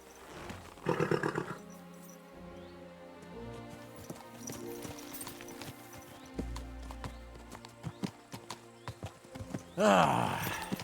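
Horse riding in the medieval game Kingdom Come: Deliverance II: steady hoof clip-clop under a backdrop of game music, with a snort at the start and a loud whinny near the end, no talk heard.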